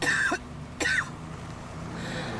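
An old man sits by the roadside and coughs twice in quick, close hacks, followed by quiet.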